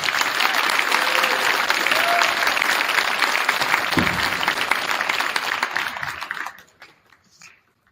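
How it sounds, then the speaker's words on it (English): An audience applauds students at a school academic recognition event: dense, steady clapping from a large crowd fills the room for several seconds, then quickly dies away to a few scattered claps and silence. "Let's give these students a round of applause."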